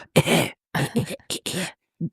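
A person coughs a few times in short bursts, close and fairly loud, followed by a brief grunt-like vocal sound.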